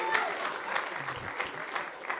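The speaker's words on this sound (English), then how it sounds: "Round of applause if you don't have kids." A comedy club audience claps in a short burst of applause, dense and fairly close, with some crowd murmur mixed in.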